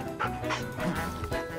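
Cartoon dog barking, yipping and whimpering while guarding a bone, several short close yelps and whines in quick succession.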